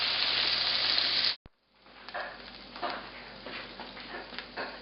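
Asparagus fries in a pan while being moved around to cook on all sides. A loud, steady sizzle cuts off abruptly, then returns as a softer, crackling sizzle with small surges as the spears are turned.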